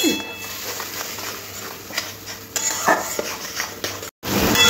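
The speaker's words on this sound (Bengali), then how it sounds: "এবার খুব ভালো করে মশলাটা কষতে হবে।" Spice masala for Bengali chicken kosha being stirred and fried in a pan, with repeated scraping and clinking of a spoon against metal over a steady background hiss, close by and continuous.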